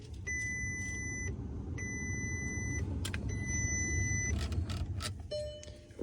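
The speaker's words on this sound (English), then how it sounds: "it's gonna beep 5 times" Several long electronic beeps sound in a regular sequence over a low engine idle.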